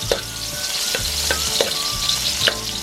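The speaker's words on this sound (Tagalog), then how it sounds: "Gisahin ang bawang." Garlic sautéing in oil in a pan for a pineapple beef dish: a steady close sizzle with regular scraping stir strokes about every half second, with no talk.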